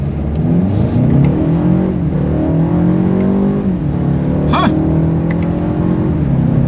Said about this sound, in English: I want to see how quickly the paddle shifters are going to react. Also want to see how quickly we can get this one here up to speed.